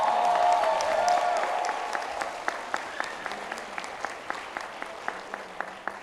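Graduation ceremony audience at Bronx Community College commencement applauding and cheering for families and loved ones; a big wave of clapping and shouts that gradually thins to a few isolated, sharp claps.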